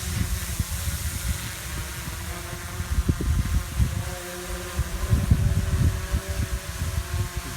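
A Traxxas Aton quadcopter drone hovers just after liftoff outdoors in light wind, its rotors giving a steady whirring buzz with faint tonal whine and irregular gusty thumps of wind buffeting, no talking.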